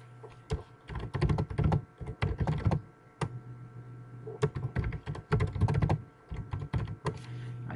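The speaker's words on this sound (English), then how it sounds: "I start typing" Computer keyboard typing in close, clattering bursts of quick keystrokes, interrupted by short pauses and a single isolated key press, over a faint steady hum with no voices.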